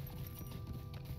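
Horse hooves clip-clop at a steady, quick gait in the Lord of the Rings Online game, a continuous rhythmic trot heard close with no talk over it.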